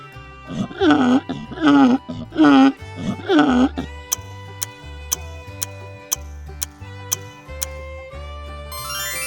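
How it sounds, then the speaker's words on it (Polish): Four rhythmic, harsh farm donkey brays sound in quick succession over a light musical backing, followed by a steady ticking beat with no animal voice. "To osioł."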